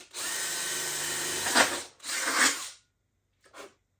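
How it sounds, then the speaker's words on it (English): Power drill boring holes for windmill fan blades, a close high whine running for about two seconds, then a shorter second burst and a brief final spin, with no talk. "And then I'll just drill those 2 holes out."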